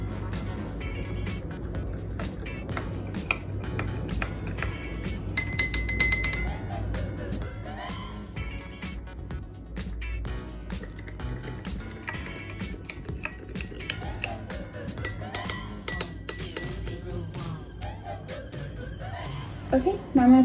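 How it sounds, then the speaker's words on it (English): Spoons clink and scrape against cups as salt and sugar are measured in and stirred, a steady run of small ringing taps and scrapes over a low background hum. "I'm gonna measure out the salt and the sugar into the cups and stir it up"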